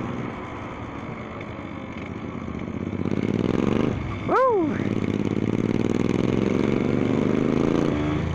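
A chopper motorcycle engine revs nearby on a road ride, its low rumble building and staying loud, with a brief rising-and-falling whine as it passes.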